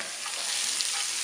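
Onions frying in the oil left over from frying sardines, a steady close sizzle running continuously with no pauses.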